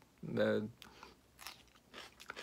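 Biting into and chewing crunchy pepper elder plant stems, a loud close crisp snap and crunch at first, followed by softer chewing and quiet talk.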